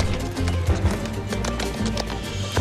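Horse hooves clip-clop at a steady trot as a sound effect in a spooky Mexican legend about the Charro Negro, set against a dense, droning low background.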